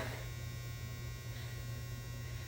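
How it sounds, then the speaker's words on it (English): A clothes dryer buzzer drones in one continuous, steady electric buzz, loud and unbroken throughout, with no talking. "my dryer making another appearance. Listen to how long it buzzes."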